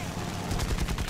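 Rapid machine gun bursts from an aircraft's rifle-calibre guns in the flight combat game War Thunder, loud and continuous over the whole short stretch, with no talking.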